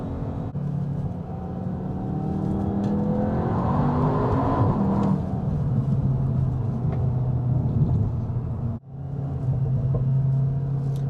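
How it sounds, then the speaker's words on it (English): 2021 Cupra Leon 300 hot hatch in Cupra mode, heard from a steady engine drone rising under acceleration, then a brief dip in level, with no talk. "Nice little pops and crackles from the exhaust as well in Cupra mode."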